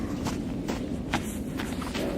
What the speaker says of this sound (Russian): И вот как скрипит снег под ногами.